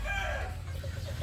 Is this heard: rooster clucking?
yes